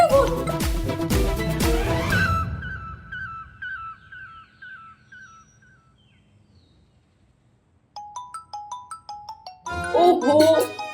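A phone's ringtone plays in a Hindi TV drama scene, a repeating melodic chime that follows loud music and returns more strongly near the end.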